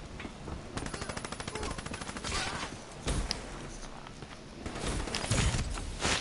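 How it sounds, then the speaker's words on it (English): Rapid automatic gunfire in Call of Duty Black Ops 3, fast stuttering bursts chattering close and loud, broken by single sharp shots and scuffling movement in a busy firefight. "Oh, so much shooting."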